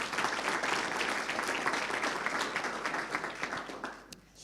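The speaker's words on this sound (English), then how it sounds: "we should give a round of applause to all the organizers of this conference" An audience at a climate conference applauds the organizers, with steady, full clapping that thins out near the end before a final few claps.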